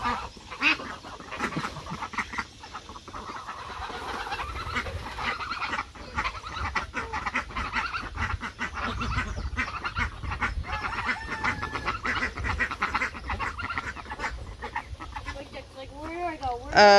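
Geese and other fowl honk and cackle repeatedly in a backyard garden, a busy, fairly close stream of calls over a constant outdoor background, with a person talking at times.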